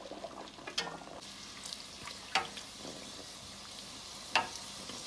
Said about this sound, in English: So we're gonna add our first bake to fry.